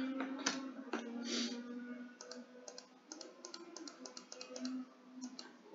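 A computer keyboard during a CAD lesson, with the Enter key pressed again and again in quick irregular clicks, near and fairly quiet, along with a few louder taps.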